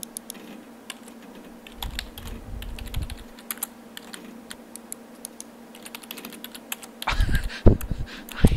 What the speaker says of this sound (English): Typing without touching the keyboard.